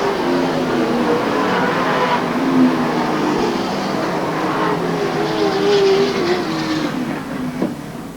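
Race cars roar down the back straightaway at Watsonville Speedway, a loud, continuous engine drone that rises and falls with the passing cars and is heard without any talk.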